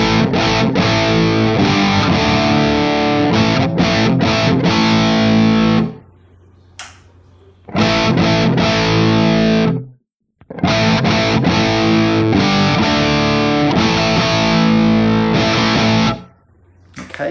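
Electric guitar played through a 1977 Marshall JMP amplifier with its gain switch pushed in, loud distorted chords and riffs in three bursts separated by brief silent gaps, no talking.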